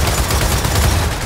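Rapid, dense turret gunfire in Gears of War 4, a loud continuous stream of closely spaced shots that fills the whole short burst.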